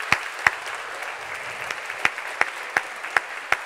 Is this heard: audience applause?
yes